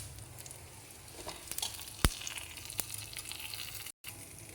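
Tempering (tadka) for dal palak sizzles steadily in a pan, a continuous bright frying hiss with a few sharp crackles and pops, close and fairly loud throughout.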